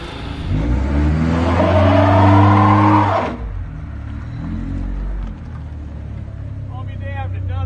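A Porsche 944 engine revs loudly and steadily while driving, then drops abruptly to a lower, quieter rumbling idle-like drone for the remaining seconds, alone without talk.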